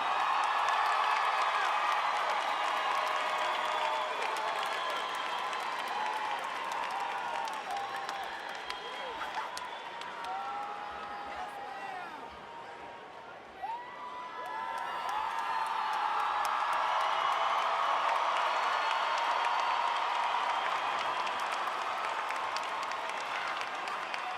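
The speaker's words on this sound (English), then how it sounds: "Ladies and gentlemen, one final round of applause for our graduates." A graduation ceremony crowd applauds the graduates with sustained, dense clapping and scattered cheers and whoops, easing briefly midway before swelling again, heard from within a large hall with voices mixed in.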